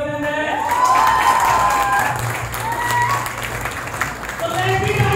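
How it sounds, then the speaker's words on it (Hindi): A gathering's audience breaks into sustained, dense applause that stays loud throughout, with a voice and some tonal sounds mixed in. "जिस तरह जीजा को ताली पसंद है उसी तरह इस महफिल को आपकी ताली पसंद है।"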